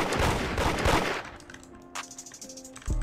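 A rapid, dense burst of gunfire in the Roblox game Da Hood rattles loudly for about a second, then fades into scattered sharper cracks and a final loud shot.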